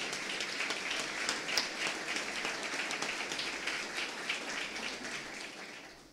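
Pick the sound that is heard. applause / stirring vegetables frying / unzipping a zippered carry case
applause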